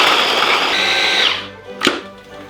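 A food processor chopping garlic with a loud, close whirring drone that cuts off partway through, followed by a single clunk.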